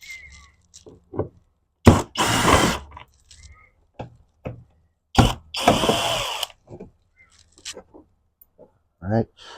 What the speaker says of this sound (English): Okay, I'm going to take these Tech screws off.